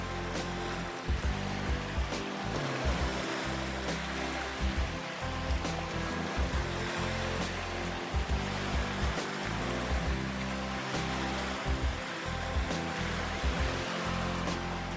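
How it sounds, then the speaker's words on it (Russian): Waves rush and wash continuously onto a shore, a broad hissing surge with periodic heavier swells, close and steady, with no voices. "Осторожно, вот волна идет, сейчас сапог зальет."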